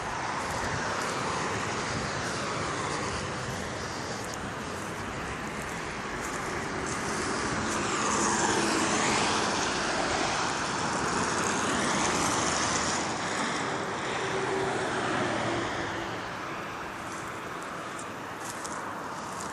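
Steady road traffic streaming by on an interstate below a small hillside fence, a broad continuous roar that swells and eases as vehicles pass, heard from above and some distance away with wind mixed in.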